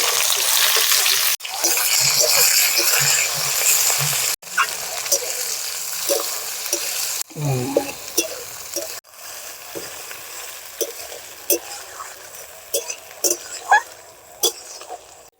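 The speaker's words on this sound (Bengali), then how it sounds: "ফোড়নে দেব তেজপাতা, গোটা গরম মশলা আর শুকনো লঙ্কা, পেঁয়াজ কুচি।" Bay leaf, whole garam masala, dried red chilli and chopped onion hit hot oil for a meat curry, giving a loud, continuous sizzle broken by a few cuts, with scattered spatters and stirring.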